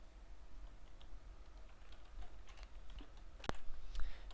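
Code is typed on a computer keyboard, soft scattered key clicks at close range over a quiet background hiss, with one sharper tap near the end.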